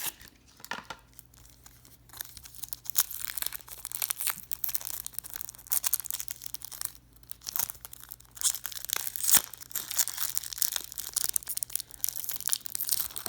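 A wrapped pack of 1990s trading cards is torn and crinkled open up close, with irregular crisp tearing and crumpling bursts over a faint low steady hum, and no talk.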